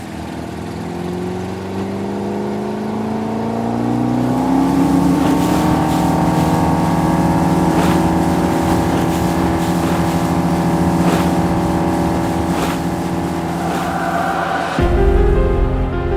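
Axopar 22 motorboat under way on open water, its engine droning steadily and rising in pitch as it accelerates, loud and close, with no talking.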